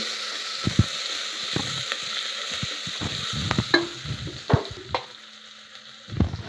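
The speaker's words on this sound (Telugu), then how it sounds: "ఇప్పుడు అల్లం పేస్ట్ వేస్తున్నానండి దీంట్లోకి కొంచెం స్మెల్ పోయే వరకు మగ్గనిచ్చుకోవాలండి" Ginger paste frying in oil in a pan, with a soft steady sizzle broken by a series of close scraping stirs and light knocks of a spoon against the pan, and no talk.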